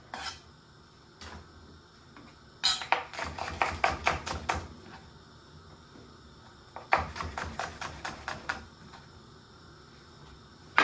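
Two quick bursts of rapid knife chops rap on a cutting board, close and crisp, separated by a quiet pause.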